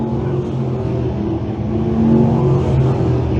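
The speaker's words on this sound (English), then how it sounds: "He's going to sneak it down on the bottom as the 88 of Christofoli continues to show the way at lap number 9." A 602 crate sprint car races on a dirt track, its engine a loud, steady droning roar with a layered, buzzing tone that swells slightly louder toward the end as the car comes closer.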